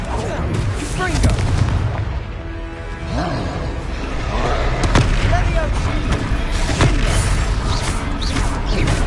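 Repeated fire spell explosions in the video game Hogwarts Legacy burst as sharp booms and blasts amid a busy battle soundscape, with voices shouting over the combat throughout.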